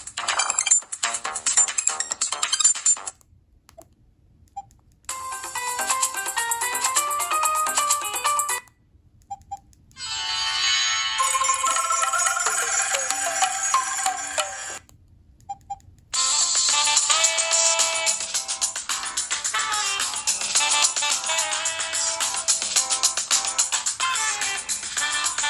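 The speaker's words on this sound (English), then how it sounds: "we can go into alarm tone and play tone. So that's max volume" A Motorola ROKR EM25 prototype phone plays its alarm tone at maximum volume, loud bright electronic melodic passages lasting several seconds each, separated by short silent gaps.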